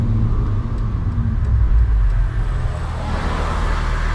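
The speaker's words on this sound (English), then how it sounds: "Okay, we have traffic here." Road traffic passing around a Mercedes-AMG E53 Cabriolet, a steady low rumble of vehicles that swells and then eases off, moderately loud and continuous with no talk.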